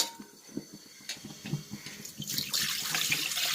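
Clear ginger juice is poured from a heavy-bottomed vessel. Small liquid splashes and drips grow into a steady, louder gushing stream toward the end, close by with no talk.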